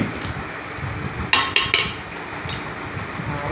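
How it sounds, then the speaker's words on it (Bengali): A ladle stirs biryani in a pot, making a few sharp metallic clinks and scrapes in quick succession over a steady, soft background hiss. "একবার পুরোটা নেড়ে নিই।"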